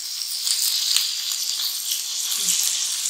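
Matar kebabs, made from peas, fry in hot oil with a steady, dense sizzle that runs the whole time, loud and close, with soft scraping from stirring.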